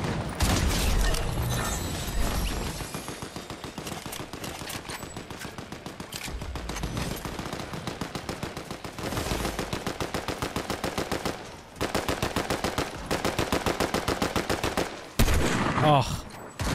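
Rapid automatic gunfire from a Fortnite match, dense bursts of evenly spaced shots rattling almost nonstop with brief gaps, loud and close, with a few heavier booms and faint voices underneath.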